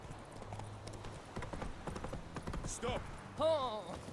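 Horse hooves clip-clop steadily in The Witcher 3: Wild Hunt, a quick even trot of close hoofbeats, ending with a short whinny-like call and some background game noise.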